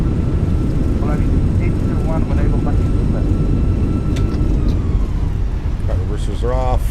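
A Volaris Airbus A320 slows after landing with thrust reversers deployed, a loud continuous low roar filling the cabin, while a radio voice and cockpit talk come through over it.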